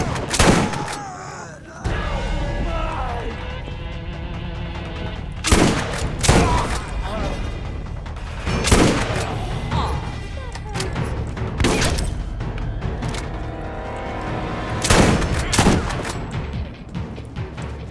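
Shotgun blasts ring out in Borderlands, with about seven loud, sharp booms spaced irregularly over a steady bed of game noise.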